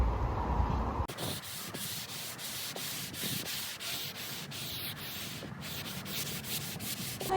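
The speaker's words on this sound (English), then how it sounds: "I'm gonna just use this sanding block and just do a light sand before I prime." A sanding block lightly scuffs the top of an IKEA Tarva dresser in steady, continuous rubbing strokes, close and fairly loud with no voices.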